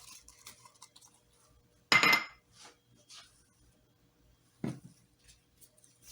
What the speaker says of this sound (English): I'm adding some of the red onions